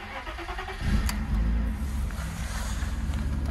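A BMW E36 with a 325i engine swapped in from a 318i turns over and fires, settling into a steady, loud, close idle rumble with no talking.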